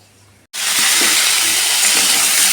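Potatoes, pointed gourd and onion drop into hot oil with a sudden loud sizzle that stays as a steady, close, bright hiss of frying for the rest of the moment.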